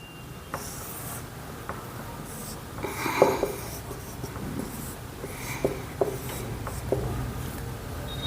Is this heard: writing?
yes